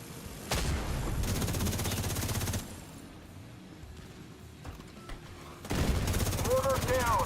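Bursts of rapid automatic gunfire from a cooperative raid in The Division 2, two loud volleys separated by a quieter stretch, with a player's voice calling out over the shooting.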